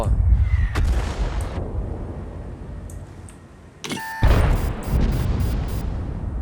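Tank cannons fire in the World of Tanks video game: a few sharp, loud blasts with rumbling tails, separated by quieter stretches. Short electronic beeps are mixed in.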